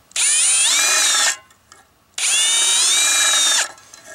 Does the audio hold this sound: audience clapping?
no